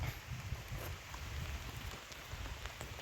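Rain falling steadily outdoors in a rural Thai setting near water, a soft continuous patter on surfaces at moderate distance, with no talking.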